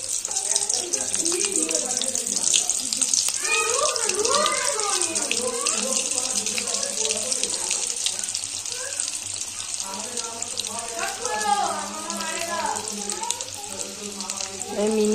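Homemade evening tiffin snacks frying in hot oil, a loud continuous bubbling sizzle throughout, while someone speaks over it in stretches.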